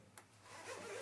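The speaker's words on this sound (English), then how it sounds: "It exposes the last zipper." A motorcycle jacket's zipper is pulled open in one quiet, smooth rasping stroke, close by and faint.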